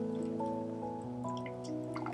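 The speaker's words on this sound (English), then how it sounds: "I then heat raspberry puree and heavy cream almost to a boil before pouring it over the chocolate" Hot raspberry puree and heavy cream, heated almost to a boil, are poured over milk chocolate in a kitchen, with soft dripping and liquid splashes over a steady tonal background.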